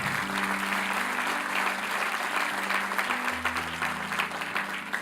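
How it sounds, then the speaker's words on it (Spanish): A church congregation claps loudly and continuously for several seconds, a full room of applause with a sustained low musical tone beneath and a few voices mixed in. "Denle un aplauso, por favor."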